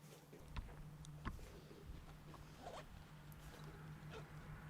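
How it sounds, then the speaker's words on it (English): A zipper on the knee ascender pouch of a tree-climbing chest harness is pulled closed in a few short, close zips, with a steady low hum underneath. "that's just zipping up the chest harness, the knee ascender pouch that I have on my chest harness"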